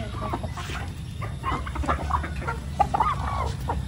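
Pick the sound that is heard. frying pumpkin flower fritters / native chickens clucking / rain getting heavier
native chickens clucking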